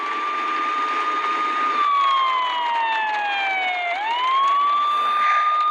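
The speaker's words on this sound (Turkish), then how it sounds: "yakına girme ambulansa çarpacaksın." A loud siren wails steadily, then its pitch slides down and swoops back up, as if passing close by, with faint road noise beneath.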